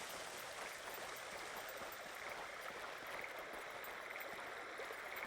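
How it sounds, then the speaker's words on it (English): Flowing river in the video game Yonder, a soft, steady rushing of water running continuously at low volume, with no voices. "I feel like we're going to drown if we try to cross this river."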